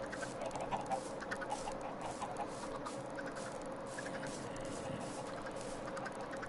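Several chickens cluck in a dense, overlapping chorus at moderate volume, with short bursts of clucks over steady background noise and no speech.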